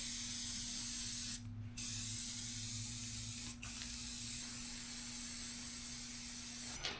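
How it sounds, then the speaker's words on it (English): Spray paint hissing from a can behind the cutting edge of a John Deere 450B dozer blade, a loud continuous close spray broken by three short pauses. "It's gonna paint behind the cutting edge here because hopefully I'll never see in here again in my lifetime"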